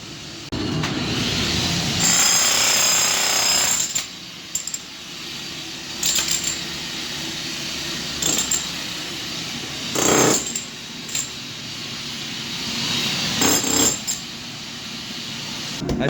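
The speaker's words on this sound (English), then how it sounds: "Today we're going to jackhammer the floor up, get the drain fixed." A jackhammer pounds a concrete floor in loud, sustained bursts with short pauses between them, while a plumber works to reach and repair a clogged floor drain.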